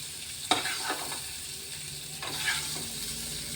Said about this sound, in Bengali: দেখুন এখানে এই মাছটা ফ্রাই হয়ে গেছে, এটা আমরা তুলে নিই।